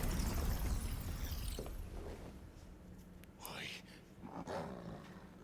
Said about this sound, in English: I can hear him growling